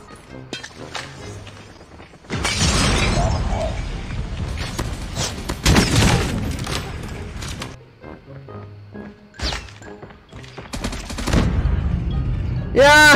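Loud, sharp shotgun blasts in a mobile shooter game, several heavy bursts and rapid cracks spread across a noisy firefight, with quieter stretches in between and brief voices in the background.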